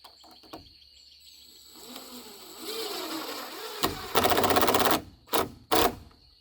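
A cordless drill drives a screw into a polycarbonate greenhouse roof panel over a purlin, with a rising whir followed by a loud, close grinding burst and a couple of short final spurts.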